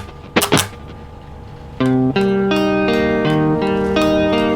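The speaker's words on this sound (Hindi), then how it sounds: "मैंने अगर रिवर्ब बंद कर दिया" An electric guitar played through a Zoom multi-effects processor with the reverb switched off rings out in dry, clear plucked notes and chords, each sustaining briefly, after two quick scratchy strums at the start.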